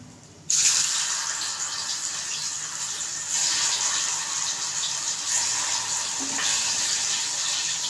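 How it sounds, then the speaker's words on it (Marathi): A loud, steady hiss of paneer frying in hot oil starts abruptly and continues, swelling as more pieces drop in. "असं पटापट पटापट तळणार आणि ह्याच्यामध्ये टाकणार"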